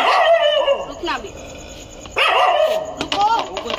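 Stray dogs bark in short loud bursts close by on a street, the yips and bow-wows overlapping with people talking and calling to them.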